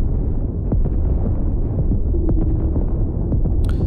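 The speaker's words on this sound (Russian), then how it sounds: "А, это пушка стреляет, короче, и сюда попадает, понимаешь?" Cannon fire and shell impacts on a ship in the Marauders video game, a deep rumbling, throbbing roar with repeated dull booms at close range, continuous throughout.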